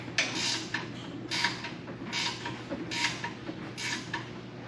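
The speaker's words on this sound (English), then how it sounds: "We installed a rib nut, and now we're installing bolts." Bolts being driven into rib nuts while assembling a metal welding cart: a series of faint, evenly spaced ratcheting and metallic clicking bursts, roughly one a second, over a low steady hum.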